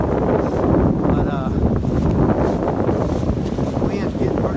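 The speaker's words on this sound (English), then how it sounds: "the wind's getting pretty hard. I think it's gusting to 35, at least 35 or so" Strong gusting wind buffets the microphone on an Appalachian Trail mountain path as a storm moves in, a loud continuous roar that swells and eases without pause.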